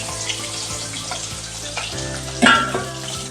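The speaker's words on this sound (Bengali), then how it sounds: "আর যে 2 পিস ছিল ওই 2 পিসও আমি ভালোভাবে ভেজে নিচ্ছি" Pieces of katla fish fry in hot oil, a continuous close sizzle and crackle with a brief louder burst of spatter near the end, no talk.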